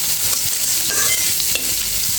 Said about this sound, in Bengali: তারপরে এর ভিতরে কাঁচামরিচ আর পেঁয়াজটা দিয়ে দেব